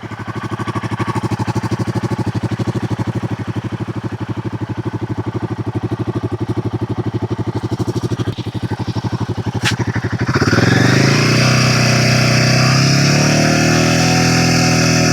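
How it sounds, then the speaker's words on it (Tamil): Royal Enfield Guerrilla 450 motorcycle idling with a loud, steady thumping exhaust pulse, then revving sharply at about ten seconds into a louder, higher, sustained roar, close up with no talking. "எக்ஸாஸ்ட் நோட் கேட்போம் நம்ம உங்களுக்கு. எக்ஸாஸ்ட் நோட் எப்படின்னு பார்ப்போம் நம்ம."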